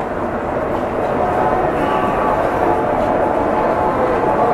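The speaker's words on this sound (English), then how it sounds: "Morning rush hour at the railway station." Steady rumble of a train at a Japanese railway station during morning rush hour, a continuous low roar with faint mechanical hum and distant voices in the background.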